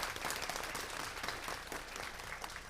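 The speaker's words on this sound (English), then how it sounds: "We want to give them a round of applause." An audience at a council meeting applauds, with steady, dense clapping that fills the room at even strength throughout.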